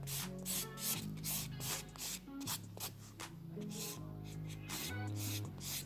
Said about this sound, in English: I'm just going to buff over this nail just so you can see you can do either or